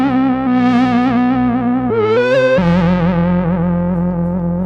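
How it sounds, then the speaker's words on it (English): Synth run through a Walrus Audio Julianna chorus/vibrato pedal with the rate raised, giving a loud, continuous warbling tone with drifting, unstable pitch like an analog oscillator and a sudden jump in pitch midway. "It really sounds like unstable pitch of an analog oscillator."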